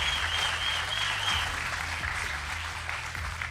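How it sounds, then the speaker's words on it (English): An audience claps steadily through the whole stretch, a dense, sustained round of applause at a live esports finals event for a mobile fighting game. "Give me another round of applause for these 2."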